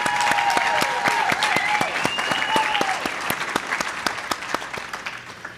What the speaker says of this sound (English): let's give a round of applause for Stephanie Urchick.